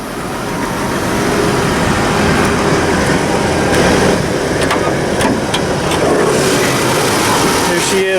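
A 1987 Ford F-150's 4.9-liter inline six-cylinder engine runs steadily at close range, a constant broadband rumble with faint ticking and light clanks on top, holding an even level throughout.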